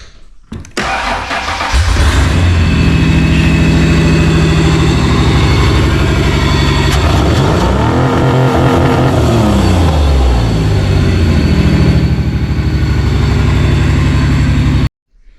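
A Ford Explorer engine with a misfire cranks and starts, then runs loudly and steadily close by, its idle slightly uneven, before cutting off abruptly at the end.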